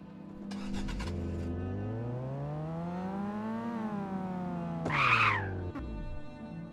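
Synthetic car engine noise from a Unity penguin video game: a steady droning tone that climbs in pitch, then falls away, with a brief harsh skid-like burst near the end, heard alone.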